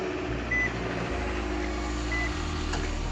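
A 2013 Nissan Altima engine idles steadily after starting while the car sits up on jacks, a continuous low rumble with faint beeps over it.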